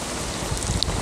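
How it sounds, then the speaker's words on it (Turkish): Rain falls steadily during a canoe trip on the Krutynia river in Masuria, a soft broadband hiss of drops on water and gear, with a faint wind rumble beneath. "görüş alanımı iyice kapatıyor yağmur."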